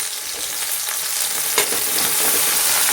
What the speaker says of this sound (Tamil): இதை நல்லா வதக்கிக்கலாம்